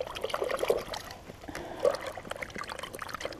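Thin water trickles and splashes as hands are rinsed, the soft pouring sound pulsing unevenly for a few seconds, fairly close and with no talk.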